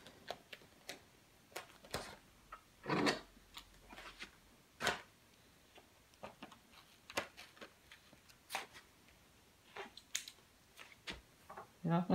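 Scissors snip through excess vinyl trimmed from a sublimation vinyl chair, with sharp, irregular clicks and cuts spaced across the stretch, close by and fairly faint, with no talking.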